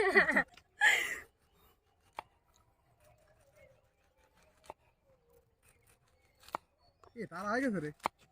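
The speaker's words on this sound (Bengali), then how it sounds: "এই যে এরা পাশে কামরাঙা কাটতেছে" Close, sharp knife taps and cuts come one at a time while star fruit is sliced into star shapes, set between bursts of nearby talking in a quiet room.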